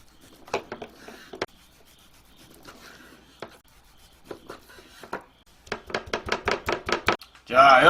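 A knife slices through a grilled pork tenderloin steak cooked to medium, making a quick run of sharp, evenly spaced cutting strokes at close range, preceded by scattered softer scraping and ending in a louder rustle.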